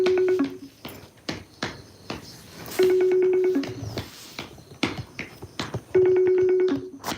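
An unanswered phone call rings three times with a steady electronic tone, each ring under a second long, spaced apart by clattery background noise and rustling, fairly close and moderately loud.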